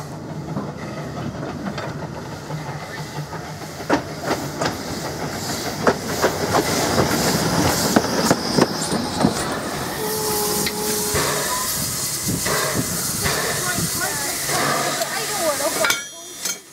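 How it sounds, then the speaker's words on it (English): A steam locomotive runs around its train with steady rumble and clickety-clack of wheels, hissing air and brief squeals, continuous and fairly close. "Peveril runs around its train, ready for its run back down to Morehouse."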